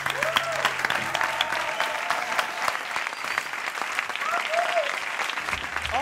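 An audience applauds a performer named Peyu at a live comedy show taping, sustained clapping from a crowd with a voice heard over it.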